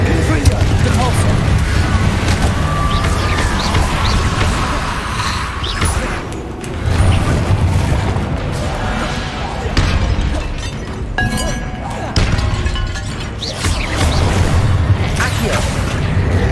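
A fast string of Confringo blasting-spell explosions in Hogwarts Legacy, mixed with shattering crashes and booms, runs through a busy battle while a voice keeps shouting spell names.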